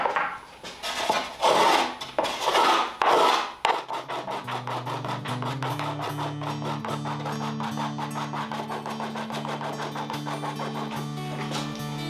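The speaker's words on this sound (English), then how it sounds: "I need to go ahead and cut this portion of my side out" A wooden guitar side being cut for an arm bevel block: about four seconds of loud rhythmic rasping saw or file strokes, close, followed by quieter continuous rubbing under a background music bed.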